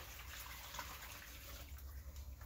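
Water pouring from a rain barrel into a container for strawberry seed cells, a steady splashing fill heard up close, running continuously with no talking.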